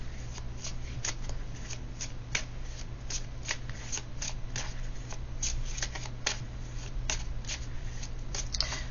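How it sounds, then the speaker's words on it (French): Manara tarot cards being shuffled by hand, a rapid train of crisp riffling snaps repeating about twice per second, close and steady over a low hum, with no speech. "Allez, je vous sors une carte du Manara"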